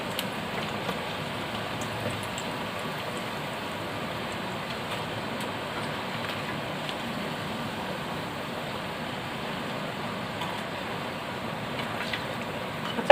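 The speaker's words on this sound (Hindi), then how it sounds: "मैं अब सारे इसी तरह से बाकी सारे फ्राई कर लूँगी" Potato cheese balls deep frying in hot oil in a kadhai, a steady dense sizzle and crackle of bubbling oil running throughout at an even level, close up with no talk.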